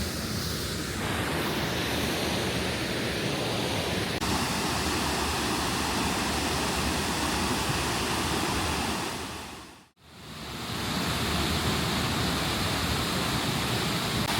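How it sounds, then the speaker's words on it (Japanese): A waterfall plunging from high above at Amagase Onsen, Oita, roars as a steady, loud broadband rush, with wind buffeting the microphone; the sound briefly cuts out near the ten-second mark before returning. "結構上の方からね、滝が落ちてきてます"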